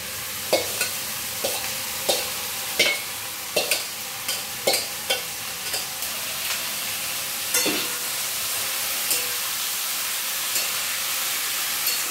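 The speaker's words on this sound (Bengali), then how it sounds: "পেঁয়াজটা হালকা ভাজা হতে এবার এর মধ্যে আমি বাকি সবজিগুলো সব দিয়ে দিচ্ছি।" Vegetables and onion stir-fry in a pan for egg chicken chowmein, with a steady sizzle broken by a rhythmic series of sharp spatula scrapes and taps that thin out toward the end.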